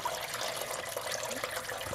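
Coolant and antifreeze draining from a Ford Focus 1.5 TDCi engine during a coolant change, a steady close splashing gush of liquid running without pause, with no voices.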